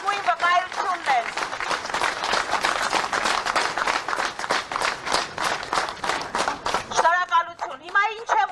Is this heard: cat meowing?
no